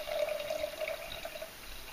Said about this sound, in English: we're going to pour 6 ounces of our grapefruit soda into each of our jars